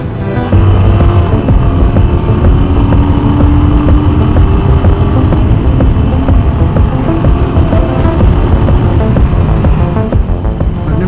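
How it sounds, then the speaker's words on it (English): A loud, continuous motorcycle engine drone at top speed in the high desert, a throbbing, steady roar, close up and constant for the whole stretch, with wind rushing underneath. "Tried to top out my motorcycle, but I don't think it's much faster."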